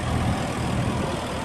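A 1962 Allis-Chalmers D17 Series III tractor engine revs steadily and loudly at close range, a dense low drone with no voices.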